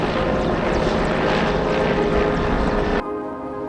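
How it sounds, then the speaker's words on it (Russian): A helicopter roars overhead near Teriberka on the Arctic coast, with a dense, throbbing rotor wash, loud and steady, then cuts down abruptly near the end. "О, вертолет!"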